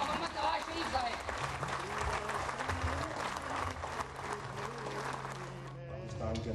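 An audience gives a standing ovation welcoming Pakistani politician Nawaz Sharif, with full, sustained applause and crowd noise loud throughout and a voice underneath.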